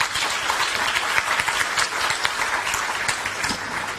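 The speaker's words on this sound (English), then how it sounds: "Can Dr. Eli Kanga have a hearty round of applause," Audience applause at the official opening of the Uganda–Europe business forum, a dense, steady crowd clapping that stays loud and even throughout without pause.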